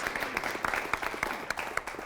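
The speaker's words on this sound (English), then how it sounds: "let's clap hands, guys" A small group claps hands in a studio, quick uneven slaps close by and fairly quiet, sparse rather than a full ovation.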